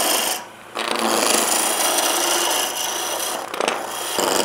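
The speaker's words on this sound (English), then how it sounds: "the tool is intermittently cutting. So we've got to be careful until we reach the timber being cylindrical" A wood lathe turning timber between centres while the tool cuts intermittently on the not-yet-cylindrical blank, giving a steady close rasping, scraping roar with brief dips and surges as the edge bites.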